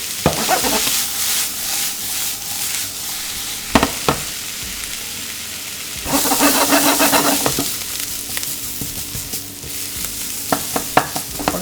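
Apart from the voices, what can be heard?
vegetables sautéing and being stirred in a frying pan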